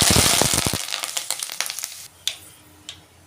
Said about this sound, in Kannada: ಇವಾಗ ನಮ್ಮಮ್ಮ ಸ್ವಲ್ಪ ಸಾಸಿವೆ ಹಾಕ್ತಿದ್ದಾರೆ ಇವಾಗ ಒಂದು ಸ್ವಲ್ಪ ಜೀರಿಗೆ ಹಾಕ್ತಿದ್ದಾರೆ ಇವಾಗ ಸ್ವಲ್ಪ ಕರಿಬೇವು